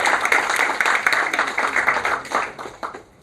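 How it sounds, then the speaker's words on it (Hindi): An audience gives hearty applause to welcome a guest at a polyester industry seminar, a dense, steady round of clapping that tapers off at the end. "जोरदार तालियों के गड़गड़ाहट से आप उनका स्वागत करें"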